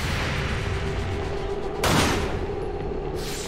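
Gunfire from XCOM 2: War of the Chosen, with a continuous rumbling battle backdrop and one sharp, loud burst of shots cutting through near the middle before the noise settles back down.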